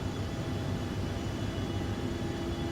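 Steady droning roar of a Loganair Embraer ERJ-145's jet engines in flight, with flaps lowered to 22 and throttle adjusted, a continuous low rumble with a faint tonal whine heard from inside the cabin.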